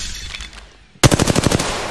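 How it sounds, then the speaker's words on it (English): Gunshots in the video game Apex Legends: after a quieter moment, a loud automatic burst of about eight rapid, evenly spaced shots starts abruptly and runs to the end. "I actually just shot my teammate's decoy."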